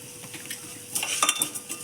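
Sweet dalia is stirred as it toasts in ghee, with light spoon scrapes on the pan and a soft sizzle that grow louder and busier in the second half, close up.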